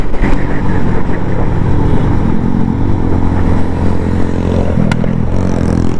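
Superbike fitted with a loud aftermarket exhaust, ridden on the road with a steady, continuous engine drone close up and no talk.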